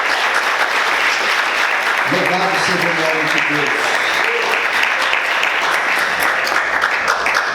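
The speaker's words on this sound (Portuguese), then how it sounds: "Vamos aplaudir Jesus bem forte." A church congregation claps loudly and steadily throughout, a dense continuous applause, while a voice speaks briefly over it partway through.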